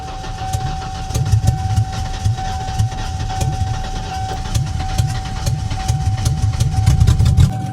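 A 1991 Mercury Cougar engine cranks and settles into a steady rough idle, a continuous low rumble with pulsing throb, heard close and alone with a constant whine above it.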